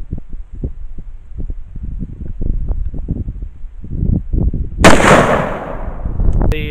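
A single loud 5.56 armor-piercing rifle shot at close range, fired at a wooden target, cracks sharply after several seconds of low rumbling handling noise and thumps, then leaves a short decaying tail.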